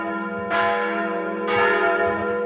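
Church bells ring out loudly on a Sunday morning in Ålesund, Norway, from a church rebuilt after the 1905 fire, with two strong strikes about a second apart and long humming resonance between them.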